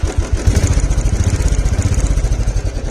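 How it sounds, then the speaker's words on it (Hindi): A motorcycle engine idles close by with a steady, throbbing putter, its rhythmic pulses loud and even throughout, with no voices. "बाइक की आवाज"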